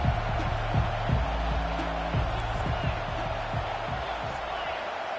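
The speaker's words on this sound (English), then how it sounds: "This crowd bringing an ear-splitting welcome to their visitors." A roaring stadium crowd at a USC versus Oregon college football game, a steady wall of loud cheering that fills the whole clip with no let-up.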